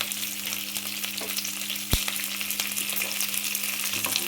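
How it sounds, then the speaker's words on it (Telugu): Spices for pulihara tempering fry in oil, a continuous close sizzle with occasional stirring scrapes and one sharp clack of a utensil against the pan. "ఫ్రెండ్స్ బాగా వేగిన చూడండి తాలింపు ఇలా బ్రౌన్ కలర్ వచ్చే వరకు."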